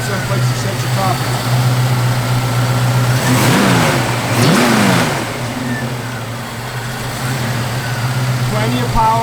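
A 1965 Ford Mustang 2+2 engine revs hard and accelerates, two strong rising sweeps in the middle over a steady mid-pitched running drone, loud and close.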